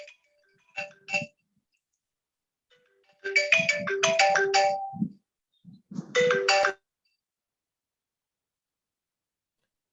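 A telephone ringtone goes off during an online webinar: a few short, bright electronic chiming bursts, then two longer ringing phrases, loud and clear with no talking over them.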